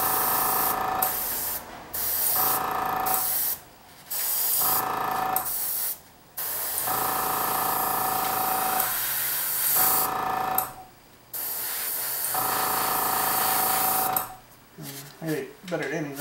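Repeated short bursts of an airbrush spraying base coat paint onto ogre miniatures, each hissing blast lasting one to two seconds and separated by brief pauses, close and fairly loud, with a few quieter rattly handling sounds at the end.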